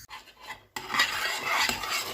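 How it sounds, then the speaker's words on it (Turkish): Spoon stirring rice simmering in a pot of water for oven rice pudding, a short scraping swish after a brief quiet start, close and moderately loud. "bu şekilde ara ara karıştırarak pirinçlerimiz iyice yumuşayana kadar suyumuzu haşlıyoruz"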